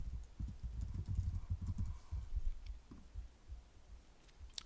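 Rapid keystrokes on a computer keyboard while entering a search term, a dense run of soft clicks that thins out toward the end, heard alone at fairly low level.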